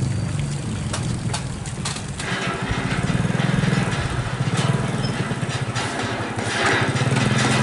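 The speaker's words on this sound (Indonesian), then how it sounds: "suara motor yang lewat ke sini ya" A motorcycle engine passes through a forest setting. Its steady low drone stays loud and continuous, swelling midway and again near the end, with wind noise over the microphone.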